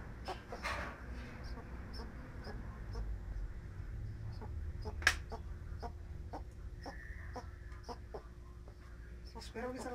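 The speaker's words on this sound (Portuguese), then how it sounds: "Cacarejando" Clucking from a chicken on a farm where a tortoise is kept, scattered short calls repeating over steady low background noise, with a few sharper bird sounds between them.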